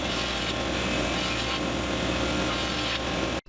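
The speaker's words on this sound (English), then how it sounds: "I'll run this through the joiner planer and get rid of that." Joiner planer trimming the edges of laminated wood strips for guitar rosette rings, a loud continuous mechanical roar with a rough cutting texture, close by, cutting off abruptly at the end.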